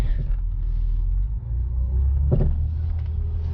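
A Saab TurboX, running front-wheel drive only with its rear driveshaft removed, cruises around the block, giving a steady low engine and road rumble from inside the cabin with a brief surge near the middle.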